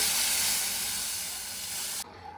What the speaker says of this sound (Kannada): ಈ ಸಾಂಬಾರನ್ನ ಎತ್ತಿ ಈಗ ಒಗ್ಗರಣೆಗೆ ಹಾಕ್ತಾಯಿದ್ದೀನಿ